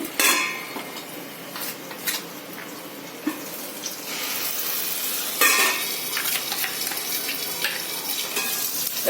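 Masala spices frying in oil in a pan for palak paneer, a steady close sizzle with occasional scrapes and clinks of a spoon stirring, no speech.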